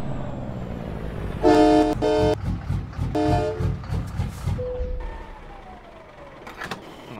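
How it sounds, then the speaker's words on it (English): Truck horns in a truck driving video game blare in several loud, close blasts, a couple of short toots then longer sustained honks, over a rumbling engine, fading to lower tones near the end. "If we can refrain from blowing our horns a thousand times"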